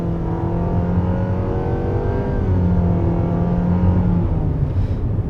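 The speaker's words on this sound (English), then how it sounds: "as I accelerate here, pay attention to the shift simulation here." A 2022 Nissan Sentra SR with a CVT accelerates, its engine note rising steadily in pitch, then dropping and climbing again as the simulated shift steps kick in, heard loud from inside the car without talk.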